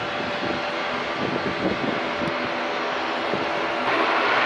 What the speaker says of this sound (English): There's the Island Hopper plane.